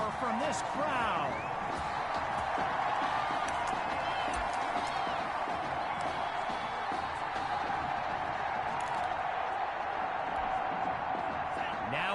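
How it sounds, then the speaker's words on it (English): Large football stadium crowd letting out a sustained roar after a big play, a dense, even wall of cheering from start to finish with a commentator talking over it. "A big-time play that gets a roar from this crowd."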